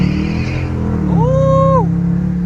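Dodge Challenger R/T engine running close by as the car swings through a U-turn, with a steady low idle rumble that briefly rises in pitch as it pulls around, then settles.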